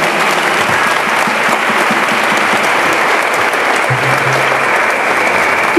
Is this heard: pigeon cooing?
no